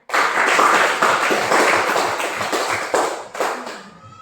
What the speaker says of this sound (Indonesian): Sekali lagi berikan aplaus untuk kelompok 1 yang sudah menjawab pertanyaan dari kelompok 3